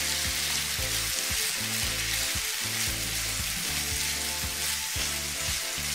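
Tomato rice frying in a pan sizzles loudly and steadily while a spoon stirs through it, with repeated soft scraping strokes under the continuous hiss, close up and with no talking.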